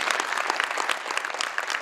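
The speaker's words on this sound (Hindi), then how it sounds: "इंद्र कुमार सर के लिए एक बार जोरदार तालियां हम लोग देते हैं।" An audience at a business event applauds loudly and continuously, dense clapping from a sizable crowd with no voices over it.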